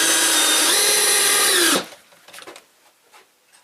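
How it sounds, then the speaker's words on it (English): A power drill drives screws while an over-the-range microwave is being installed, giving a loud, steady close whir for under two seconds that then stops sharply, followed by faint clicks and handling noise. "Put a couple more screws in here"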